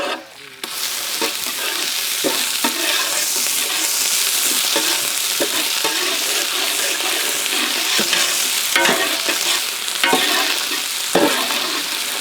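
Whole spices with ginger garlic paste, green and dried chillies, peppercorns and cumin fry in ghee for white chicken pulao, a steady loud sizzle broken by repeated scrapes and clacks of a stirring spoon, with no talking.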